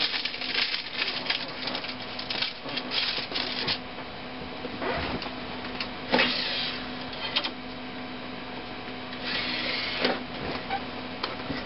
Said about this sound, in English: You'll go ahead and insert your Windows 7 DVD into the DVD drive.